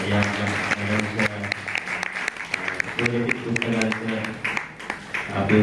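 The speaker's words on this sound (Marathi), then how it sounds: "जोरदार टाळ्या वाजवून" An audience at a Rotary Club award ceremony applauds as a teacher presents her books, with a sustained wash of clapping mixed under voices and other sound in the hall.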